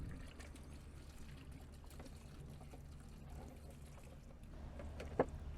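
About a liter of 3% hydrogen peroxide being poured onto computer scrap gold fingers, a faint steady trickle of liquid that runs for several seconds and ends in a brief splash.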